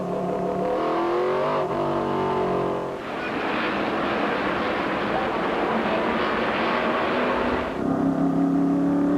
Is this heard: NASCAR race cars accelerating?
yes